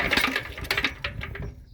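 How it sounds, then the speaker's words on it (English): A small engine on a Kewanee water pump is crank started, giving a quick run of uneven puttering firing pulses that die away after under two seconds. "crank start this little guy."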